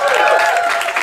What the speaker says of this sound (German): Applaus für die 4.